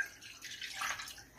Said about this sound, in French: On va ajouter l'eau.